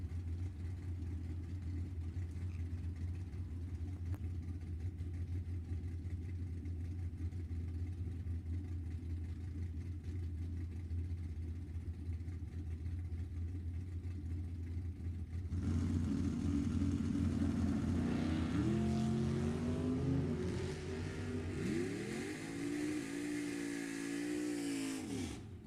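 A Firebird and a 1966 Mustang in an NHRA Division 7 E.T. Finals drag race, with a steady low engine idle rumble giving way to a loud surge of roaring, revving engines as the cars launch and accelerate away.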